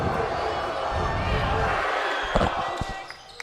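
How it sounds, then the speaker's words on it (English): A loud home crowd at a Hermits high school basketball game against Middle Township roars steadily, then eases as sharp ball bounces and sneaker thuds cut through near the end. "The Hermits crowd getting loud for this one."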